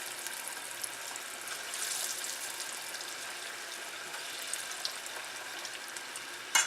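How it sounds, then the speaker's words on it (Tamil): Chickpea falafel balls deep frying in oil over medium heat, a steady soft sizzle and bubbling hiss with small crackles, faint and continuous with no talk. "ஃபுல்லாகவே மீடியமில் வச்சு தான் ஃப்ரை பண்ணி எடுக்கணும்."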